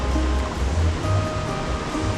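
Oak Creek at Grasshopper Point in Sedona, Arizona, rushes steadily over rocks in a continuous close, full wash of flowing water with no voices.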